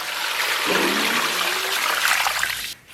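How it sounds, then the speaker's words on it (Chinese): Running water pours over lamb ribs being rinsed, a close, steady splashing gush with a brief gurgle partway through, cutting off at the end. "咱们拿水给它简单洗一下。"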